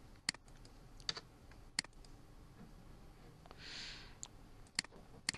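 Sharp, isolated key presses on a computer keyboard, a handful of clicks spaced irregularly, close and fairly quiet, with a brief soft rustle in the middle and no talk.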